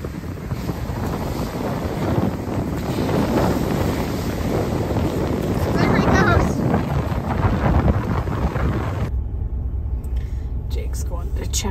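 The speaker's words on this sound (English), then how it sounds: "the surf is really pounding" Strong wind buffets the microphone in a constant roar on an Alaska beach, with the heavy rumble of pounding surf underneath, before cutting off abruptly near the end.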